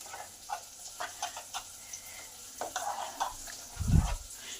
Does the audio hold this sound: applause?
no